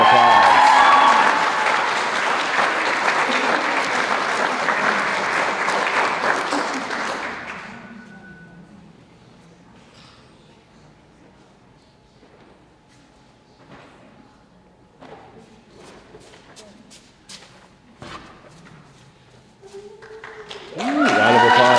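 Loud, dense applause from a large audience at a graduation ceremony for about seven seconds, then it fades to scattered claps and quiet room noise before another burst starts at the end.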